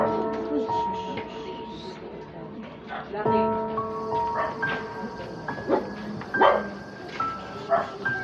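Dogs bark and yip in short bursts, fairly close, mixed with a melodic electronic jingle, while people talk nearby in an outdoor setting.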